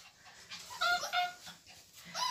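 Pembroke Welsh Corgi puppies in a summer kennel pen pant and let out thin, high whimpers in short bursts, faint and close, with no talking.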